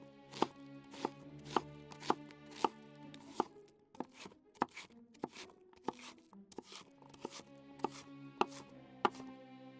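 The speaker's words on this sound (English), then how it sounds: "we will peel and cut some carrots into about an inch lengthwise pieces" Carrots being cut into inch-long lengthwise pieces on a board, crisp rapid knife chops in quick bursts with short pauses, close and clear over a soft sustained musical background.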